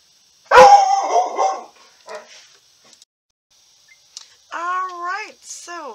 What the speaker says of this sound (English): Then the dog barked.